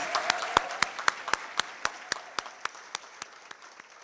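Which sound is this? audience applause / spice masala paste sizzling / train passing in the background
audience applause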